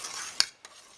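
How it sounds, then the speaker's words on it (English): A spoon stirs Greek-style lentil soup in a pot, giving one sharp metallic clink and a fainter tap over a soft background hiss. "Just stir it."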